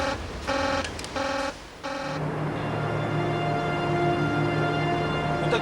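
Control room alarm at a nuclear power plant sounding three short, evenly spaced electronic beeps, followed by a steady buzzing tone that continues to the end.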